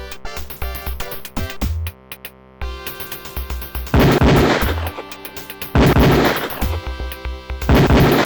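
Beretta pistol shots at a police firing range in Police Quest: Open Season, fired in loud sharp bursts with brief pauses, over synthesized game music.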